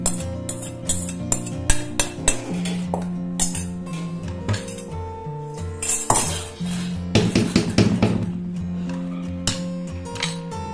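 Idli batter being stirred in a metal vessel, a spoon clinking and scraping against the pot in quick irregular knocks, close and fairly loud, with no talk over it.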